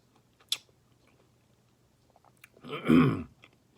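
A Nature Valley peanut butter dark chocolate protein chewy bar being bitten and chewed close up, a small click followed by a brief, dense chewing burst, no talking.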